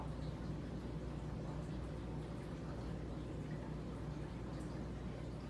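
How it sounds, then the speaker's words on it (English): Quiet, steady hiss and low hum from a cichlid aquarium's sump system, a continuous faint watery wash with no distinct events. "This is the sound of my sump system."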